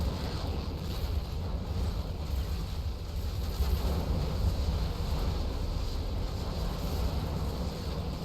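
Spaceship engines roaring at full power in the space game Between the Stars, a steady, dense rumble that holds evenly throughout with no voices over it.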